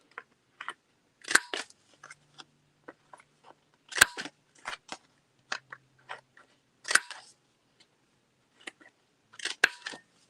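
Scissors snip paper corners into decorative shapes for a junk journal, with short, crisp cutting clicks coming in small irregular bursts against near silence, close and fairly quiet.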